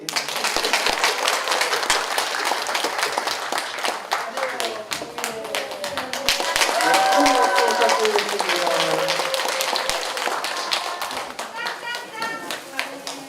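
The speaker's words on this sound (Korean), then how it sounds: "우리 퇴장하시는 분들 어색하지 않게 박수 한 번 더 크게 쳐주세요" An audience at a Won Buddhist talk concert claps steadily and fairly loudly for over ten seconds, a dense crackle of hands with someone speaking over it.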